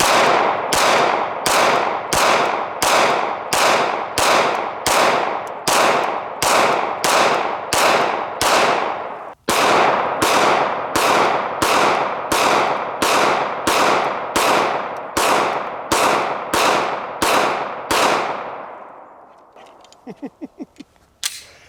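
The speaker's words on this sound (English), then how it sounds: "So the last thing I'm gonna shoot this body armor with is 9mm" Glock 19 firing 9mm Hornady Critical Defense rounds at body armor on an outdoor range, a long string of about twenty-five loud, close shots in an even rhythm, trailing off into faint rattles at the end.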